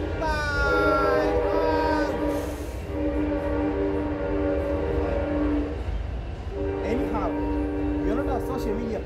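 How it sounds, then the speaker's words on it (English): A train passes nearby in a US town, a steady rumbling roll with sustained horn-like tones throughout, loud and continuous, with voices talking over it. "There's a train passing by."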